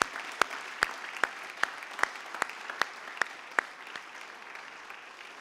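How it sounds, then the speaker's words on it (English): Hand claps at a senior academic and athletic recognition ceremony honoring scholarship recipients, a regular beat of crisp claps that thins out and stops after about four seconds, over a quiet room hum. "If we could all take a moment and just give a round of applause to all of the recipients tonight."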